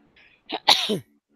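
A single short, explosive cough from a woman, close and clear, a quick burst with a sharp start and brief tail, alone with near silence around it.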